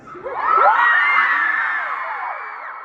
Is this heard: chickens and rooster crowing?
no